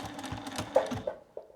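Sewing machine back stitching the final seam of a boxy makeup bag, a short burst of rapid clattering stitches that slows and stops, close and fairly quiet.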